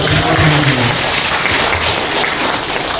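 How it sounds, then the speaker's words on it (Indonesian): Applause from an audience at a regional youth organisation working meeting in Merauke, a dense steady wash of clapping that fills the whole stretch at close, even loudness, with a faint low voice beneath it at the start. "Tepuk tangan yang betul saja."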